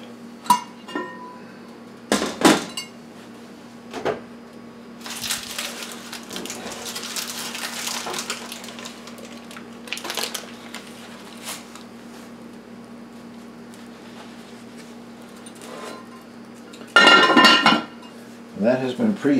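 A covered pot of multigrain sourdough bread being put into a preheated oven, scattered metallic clanks and clinks of the lid and oven rack with a faint steady hum behind, close and intermittent.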